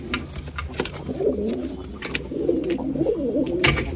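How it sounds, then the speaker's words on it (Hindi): Pigeons coo steadily inside a loft nearby, a low throaty warble repeating over faint background noise, with no talking. "ये लॉफ्ट के अंदर कबूतर बैठा है"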